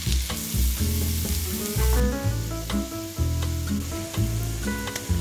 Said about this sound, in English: In the same pan, add butter. Add the diced shallots.